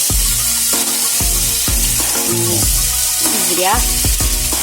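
Pieces of liver deep-frying in a pan of hot oil, a loud steady sizzle close up with occasional knocks and scraping as the pieces are turned, while someone speaks briefly over it.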